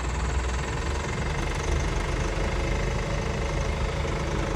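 Car engine running steadily at low speed during a driving lesson, a continuous loud rumble with a slight knocking texture, close and unbroken, with no talk over it.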